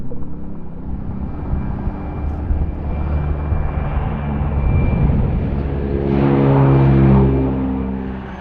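Transall military transport airplane engines, a loud close rumbling roar that builds and swells toward the end, steady and uninterrupted.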